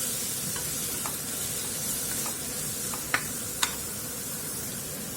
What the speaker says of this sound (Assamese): ভাজি থাকিম অলপ সময়।